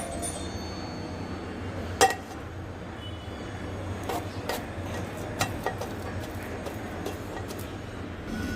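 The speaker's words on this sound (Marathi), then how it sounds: "मी चमच्याने वाटते." Cooked puran filling for puran poli being mashed with a spoon in a vessel, a soft steady mushing with occasional sharp metallic clinks of the spoon against the pot.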